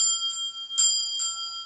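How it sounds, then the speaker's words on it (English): Small bell rung up close, a bright sustained metallic ring with three quick strikes that keep the tone shimmering and decaying. "Ring the bell."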